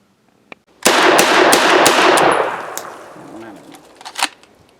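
Live rounds from a Yugo Zastava M56 semi-auto rifle ring out: a sharp early crack, then a loud rapid string of shots with echoing tail, fading before two more distinct close bangs.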